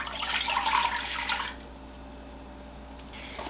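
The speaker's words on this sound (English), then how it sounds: "I've got my hot Beautyberry juice right here. I have 3 cups. So I'm going to go ahead and pour this into my pot." Hot beautyberry juice, three cups, is poured into a cooking pot, a steady splashing stream for about a second and a half that then stops, leaving quiet room hum.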